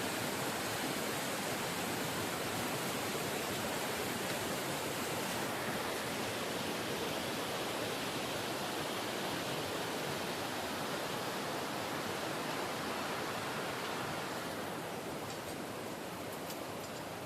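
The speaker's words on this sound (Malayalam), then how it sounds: "ഇതേ കണ്ടില്ലേ, വെള്ളം ഇങ്ങനെ കുത്തി വലിക്കുക" Strong river water rushes beneath an adventure footbridge in a steady, loud, unbroken roar, with no voices over it.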